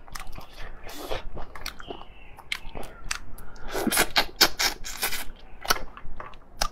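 Close, crisp bites and wet chewing of shrimp in a Chinese mukbang, irregular crunchy clicks and squishes alone in a quiet room.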